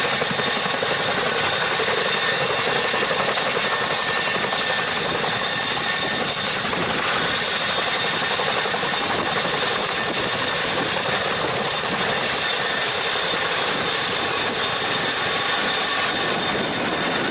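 A helicopter flies over water as divers jump from it into the water below, a steady, sustained engine drone with a high whine held at a constant loud level, with no voices.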